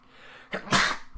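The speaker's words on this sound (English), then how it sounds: "I can control a lot of things, but I cannot control a sneeze." A single sharp human sneeze indoors during a game recording session, a short intake followed by a loud burst, near and alone over quiet room tone.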